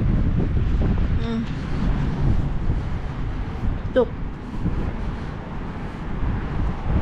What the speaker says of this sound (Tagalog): at saka very windy siya